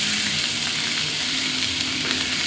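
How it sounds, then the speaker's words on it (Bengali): Grated ginger fries in hot oil while being stirred in a pan for a cabbage and bori curry, giving a loud, steady sizzle throughout with faint scraping from the stirring. "সেই আদাটা আমি এখানে দিয়ে দিলাম, যে আদাটাকে একটু ভালো করে নেড়ে নিচ্ছি।"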